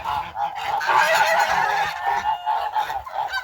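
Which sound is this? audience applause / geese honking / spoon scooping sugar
geese honking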